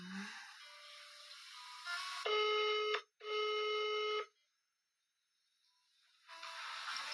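A telephone gives two long, loud electronic rings separated by a brief gap, with quiet room hiss before and after.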